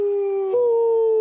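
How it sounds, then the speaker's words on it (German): Wolves howling: one long, steady, tonal howl that bends slightly in pitch midway, loud and unbroken, with no talking over it. "Hörst du das? Das sind Wölfe."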